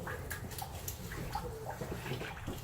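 Last runnings of homebrew wort drip and trickle out of the brewing vessel in a steady, close, wet patter, with no one talking.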